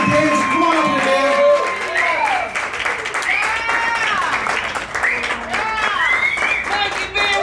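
A live podcast audience at The Open Mike Podcast's 100th episode live show claps and cheers for a comedian, with loud, sustained applause, whoops and voices talking over it throughout.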